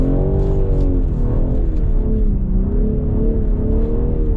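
A 510hp rear-wheel-drive BMW revs hard and accelerates on ice, its engine note rising and dipping as it shifts into third gear, loud and close throughout.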